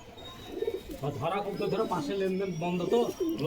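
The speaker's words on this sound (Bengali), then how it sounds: "দুটোই বাজির কবুতর আরও ভালো ভালো কিছু কবুতর আছে" Fancier pigeons kept for sale coo in soft, rolling phrases close by, with someone talking over and between the calls.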